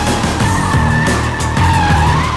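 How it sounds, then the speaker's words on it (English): Tires squeal loudly as a skid car slides on a track for vehicle dynamics training, a sustained screech with wavering pitch over a continuous engine drone. "We have a skid car, so we demonstrate vehicle dynamics"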